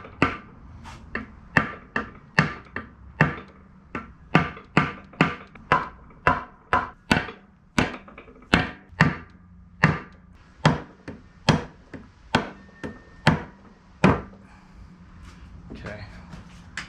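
Repeated hammer whacks on a BMW S52 cylinder head to loosen it, about two dozen sharp, close, loud blows in a fairly steady rhythm.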